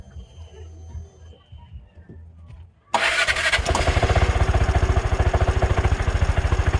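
A Piaggio Ape City three-wheeler engine is started after a valve clearance tune-up. Low, faint sounds give way to a sudden catch, then the engine settles into a loud, close, rapidly pulsing idle.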